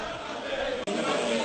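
A roaring, increasingly agitated crowd of protesters near French armoured vehicles fills the air with continuous loud shouting, broken by one brief dip.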